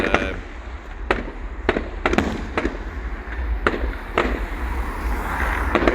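Fireworks at a display in Rhyl burst in a run of sharp, close bangs every half second or so over a low outdoor rumble, with faint crowd noise in the background.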